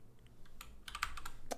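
Computer keyboard typing while coding a Next.js 14 app, a quick run of close, light key clicks with a short cluster of taps toward the end, alone without speech.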